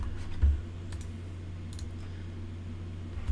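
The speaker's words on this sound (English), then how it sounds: "we'll type it in anyway" Someone types on a computer keyboard while configuring OSPFv3 IPv6 authentication. Faint, sparse keystroke clicks sit over a low steady hum, with a slightly louder tap near the start and another at the end.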